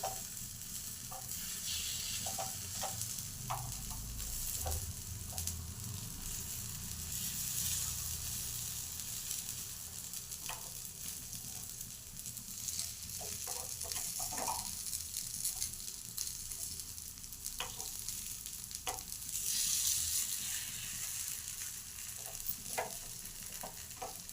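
Ponganalu (paniyaram) frying in a pan, with a steady hiss of oil and scattered scraping clicks as the pieces are turned, continuous and close with no talking.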